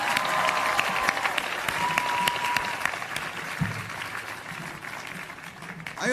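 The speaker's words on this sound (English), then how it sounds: "giving a round of applause to all my fellow graduates of" Sustained applause from a crowd at a 2023 CUNY graduation ceremony, steady and dense clapping with scattered cheers, filling the room without speech.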